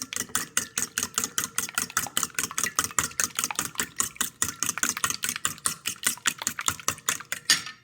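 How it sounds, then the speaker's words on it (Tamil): Chopped mushrooms with salt beaten briskly in a bowl, a steady run of rapid, evenly spaced clicking strikes close up, continuing without talk for several seconds. "இப்போ இதுக்குள்ளே உப்பு போட்டுட்டேன்னு இதை பீட் பண்ணுவோம்"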